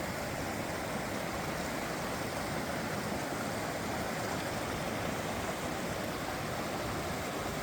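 White Creek pours into Shinumo Creek in the Grand Canyon, a steady broadband rush of flowing water close by that stays even throughout with no talking.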